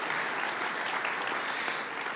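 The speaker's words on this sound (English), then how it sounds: "Let's give them a round of applause." Dense, steady applause from a luncheon audience at a donor appreciation event fills the room for the whole moment, with no voices over it.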